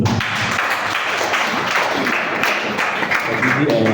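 Audience at a public speaking workshop applauding, a dense, steady clapping that fills the room at moderate loudness, with some voices mixed in beneath.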